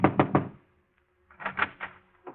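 Knuckles rap on a cafe manager's office door in a radio drama effect: a quick set of three firm knocks, a pause, then another three-knock group and a last start of knocking, close and dry.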